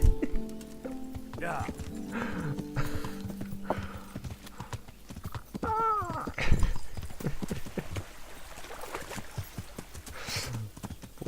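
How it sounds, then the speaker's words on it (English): Horse hooves clip-clopping and a short whinny in Kingdom Come Deliverance, a medieval game, with rhythmic hoofbeats throughout, a neigh partway through and other game sounds around them. "puto caballo"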